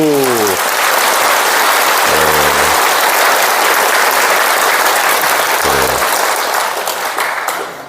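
A church congregation breaks into loud, sustained applause that fills the whole stretch with a dense, even roar of clapping, with brief voices briefly audible over it and a slight fade at the end.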